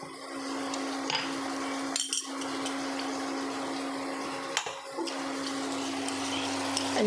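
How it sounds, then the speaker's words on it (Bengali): Water rinsed from a jar pours into poppy-seed paste in a pan for Bengali lau posto, a steady close rushing splash with a few clanks of the vessel along the way. "বাটিটার জলটা ধুয়ে দিয়ে দিলাম"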